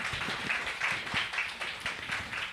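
An audience claps together for the staff who prepared the opening of the Busan Youth Centre, a steady, moderately loud ripple of hands filling the room without pause.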